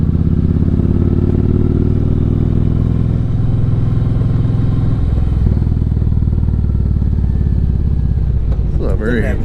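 A motorcycle on a winding road, its engine droning loud and close with steady rumble, pitch easing and shifting as it rides, with a voice talking briefly over it near the end.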